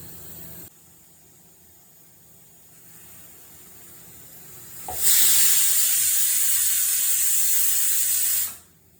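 Milk tea boiling on a stove, a faint low simmer that swells into a loud, steady steam hiss lasting several seconds before it cuts off abruptly.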